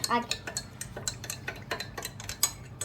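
A spoon stirs sugar into a mixture for pizza dough in a bowl, tapping and clinking against the sides in a quick, irregular rhythm, close and fairly soft.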